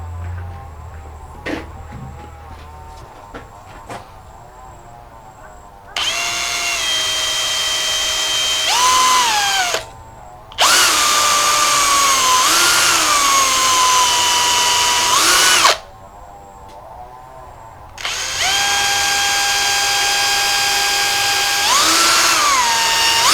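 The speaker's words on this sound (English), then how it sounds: "I should drill this first and then put in the screws on" Power drill pre-drilling screw holes in a wooden cabinet door, three long close whining bursts separated by short pauses, with pitch dropping under load near the end of each run, preceded by light handling clicks.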